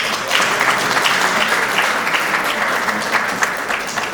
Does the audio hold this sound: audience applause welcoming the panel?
yes